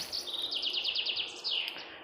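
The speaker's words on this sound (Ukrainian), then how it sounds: "послухала пташок" Small birds sing and chirp in a spring forest in the Kyiv region, with a quick run of repeated bright chirps in the middle and shorter calls around it, fairly close and clear over a soft outdoor hush.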